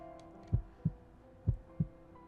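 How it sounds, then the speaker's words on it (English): Soft, muffled heartbeat thuds from the Hakuoki video game beat in two steady double-beat pairs, low and close with no talk over them. "Through his thick chest, I could hear his heart beating steadily, gently"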